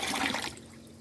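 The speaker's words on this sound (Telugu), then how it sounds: "ఇదంతా కూడా ఇట్లా మనం ఫిల్టర్ చేసుకోవాలి" Homemade liquid plant fertilizer, diluted with water, splashes and pours steadily through a filter for about half a second, then trails off into a faint trickle.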